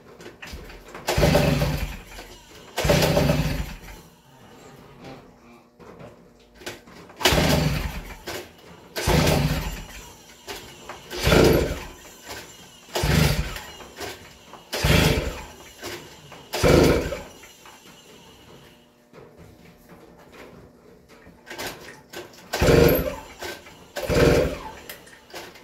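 A tuned moped engine fitted with an RD carburetor cranks in repeated loud bursts, catching and revving briefly before dying out between attempts, with short pauses of quieter running between each burst.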